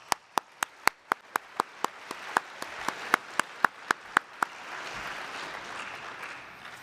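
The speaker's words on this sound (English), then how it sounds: "So another big round of applause for all of you who are doing this great work in the community." Audience applause at the Open edX 2017 conference: sharp, evenly spaced single claps ring out for about four seconds, then blend into a softer, dense wash of clapping from the crowd, with no talking.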